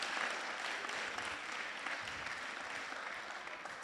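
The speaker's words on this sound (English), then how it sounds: "Another round of applause for Miss Zulia's class." Steady, even applause fills a council meeting as the audience claps for Miss Zulia's class, a dense hiss of many hands heard at a moderate distance with no talking.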